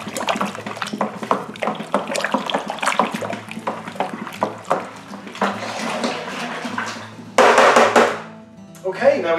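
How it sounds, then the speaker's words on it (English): Raspberry wine must is stirred with water in a homebrew vessel, making sloshing, swirling liquid noise with faint knocks against the container while a person talks over it, ending in a brief louder splashing rush. "We're now going to give it a good stir."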